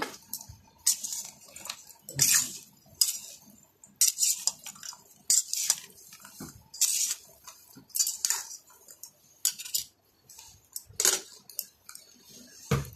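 A spoon mixes aloo kabli, boiled potatoes with tamarind and spices, in a bowl, giving bursts of metallic clinks and scrapes in an uneven, repeating rhythm, close and fairly loud with quiet gaps between strokes.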